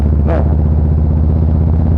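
A Harley-Davidson Fat Boy Special with a SuperTrapp adjustable exhaust rumbles with a steady, loud, low-pitched engine drone while riding, with a brief sharp chirp near the start.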